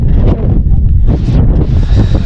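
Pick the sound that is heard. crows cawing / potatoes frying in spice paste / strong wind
strong wind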